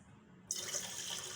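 Water suddenly gushes from a tap into a metal pressure cooker, a steady bright splashing stream after a brief quiet start, close by.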